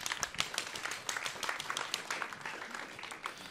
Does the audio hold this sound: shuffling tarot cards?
no